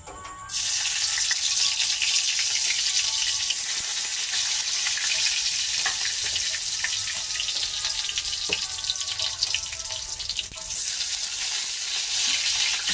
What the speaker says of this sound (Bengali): প্রথমে রসুনটা দিয়ে দেবো একটু